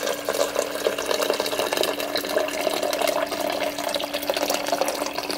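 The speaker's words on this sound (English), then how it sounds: "When you pour cold water," Cold water poured into a color-changing cup, a steady, close splashing and trickling stream lasting several seconds with no talking.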